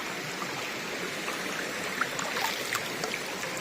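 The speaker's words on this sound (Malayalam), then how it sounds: "ഇതാണ് ഞങ്ങളുടെ ചെറിയ തോട്" A small, clear village stream flowing, a steady close rush of water with faint bubbling trickles and no voices.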